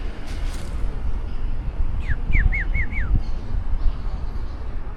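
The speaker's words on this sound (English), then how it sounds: "These birds made some crazy noises." A bird outdoors in Bucaramanga, Colombia gives a quick run of five sharp, rising-then-falling whistled calls over a low rumble of distant background noise.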